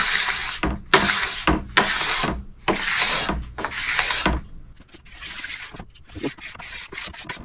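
A plastic scraper rasps wax off a snowboard base in repeated long, rough strokes, close and fairly loud, with a few softer strokes toward the end.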